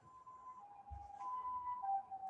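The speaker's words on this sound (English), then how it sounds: "That's good, except for the sirens behind you." A wailing siren rises and falls steadily in the distance, faint but continuous, with no one speaking.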